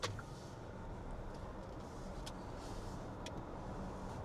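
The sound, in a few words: Hyundai Ioniq 9 car driving and accelerating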